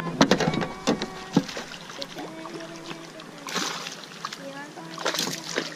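A fish splashes and jumps over a net on the Guyandotte River, with several sharp water splashes and sloshes close by and people talking excitedly throughout.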